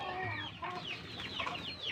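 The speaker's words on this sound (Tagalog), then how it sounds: "Meron din siya ditong mga manok na native." Native Rhode Island chickens clucking in a backyard in Pampanga, a steady run of close, overlapping clucks and calls lasting about two seconds.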